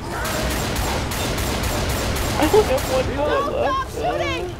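Rapid, evenly spaced shots hammer at the Tank in Left 4 Dead 2, a steady automatic volley for about three seconds, then fading into excited voices talking over the game.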